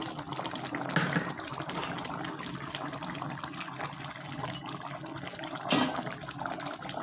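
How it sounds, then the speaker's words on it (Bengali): Jackfruit and prawn curry gravy simmering in a pan gives off a steady, close bubbling hiss with a couple of louder gurgling pops, and no voices. "ঝোল টক করে ফুটছে"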